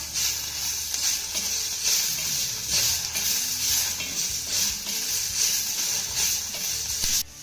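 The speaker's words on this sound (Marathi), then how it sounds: "आता यामध्ये आपल्याला एक चिरलेला टोमॅटो घालायचा आहे टोमॅटो देखील आपल्याला मौसूद होईपर्यंत परतून घ्यायचा आहे" Onion and chopped tomato frying in a pan for spinach bhaji, a continuous close sizzle and hiss with soft scraping stirs coming through at intervals, no talking.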